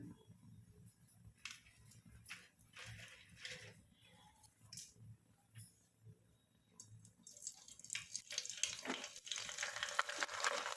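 Kurdai, a rice-based fryum, frying in hot oil over a wood-fired stove, a soft crackling sizzle that swells into a louder, dense hiss toward the end, close by, with no talking.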